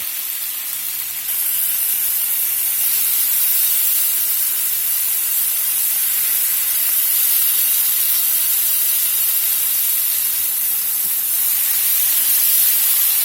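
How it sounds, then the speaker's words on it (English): Blackening-seasoned salmon fillets sear in a hot pan, giving a steady, loud sizzling hiss that runs unbroken throughout. "I'll let them sear a few minutes each side to get a nice color on them."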